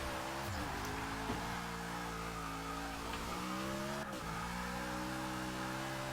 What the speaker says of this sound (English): This is what I love about this car, it just drifts for days.